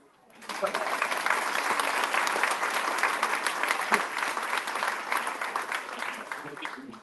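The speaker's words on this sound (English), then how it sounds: "Let's give a round of applause for that." An outdoor crowd gives sustained applause in the rain at a community menorah lighting. The dense, steady clapping swells in after a brief quiet start and then slowly tapers off.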